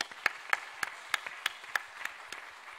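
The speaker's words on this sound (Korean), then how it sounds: "여러분 인사할 때 크게 격려 박수 해주세요" Sparse, evenly paced claps from a small group of the congregation during a Sunday church service, about ten distinct hand claps spread over three seconds, fairly faint and with no talking.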